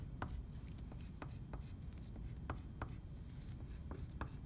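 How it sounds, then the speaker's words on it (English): White oil pastel pressed hard against paper to draw snowflakes gives quiet, close scratchy strokes and short taps, repeated irregularly at a brisk pace. "pushing down hard with our oil pastel, I'm going to draw some snowflakes"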